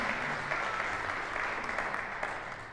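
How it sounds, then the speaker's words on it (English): Concert audience applause for a jazz sextet musician after a tune, a soft, steady wash of clapping with no one talking. "Let's clap for him one more time."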